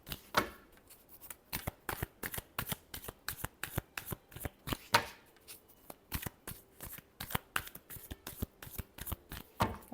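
Playing cards are riffled and bridged in a steady run of sharp, crackling bursts, repeated shuffles close by with no one talking over them.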